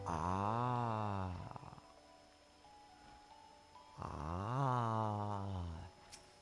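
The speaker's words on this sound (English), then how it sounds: "You agree, snoring puppy?" A puppy snores close by in a quiet room, two long rasping, harmonic breaths separated by a pause of soft low room noise and a few faint tonal sounds.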